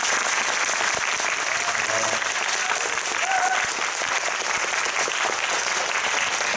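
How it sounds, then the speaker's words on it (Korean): A cinema audience at a post-screening talk claps in a sustained, dense round of applause, the crowd filling the room evenly for several seconds, with a few faint voices underneath. "박수 좀 쳐주세요."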